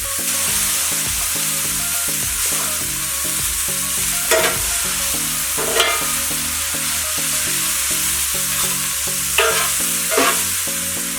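Maggi noodles with mixed vegetables frying in a pan while being stirred, a steady sizzle over repeated scraping strokes with a few louder clatters of the utensil against the pan, close and continuous.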